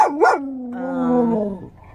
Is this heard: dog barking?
yes